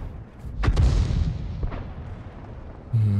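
A tank cannon fires high-explosive shells in the World of Tanks video game: two heavy booming shots in quick succession, loud and close, followed by rumbling echoes and a short mechanical thud at the end.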